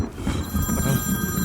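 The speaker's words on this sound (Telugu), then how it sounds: "లక్ష్మి వాళ్ళ నాన్నగారు ఫోన్ చేస్తారన్నా." A telephone rings indoors during a Telugu romantic film scene, its tone repeating steadily through the short stretch with no voices over it.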